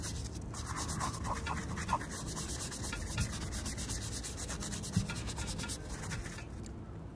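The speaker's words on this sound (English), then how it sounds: "Starting with the soft bristle brush, we will use this to clean the uppers." A soft bristle brush scrubs the uppers of Yeezy slides with a cleaning solution, giving a continuous close, quiet rubbing and scratching with a few light knocks and no speech.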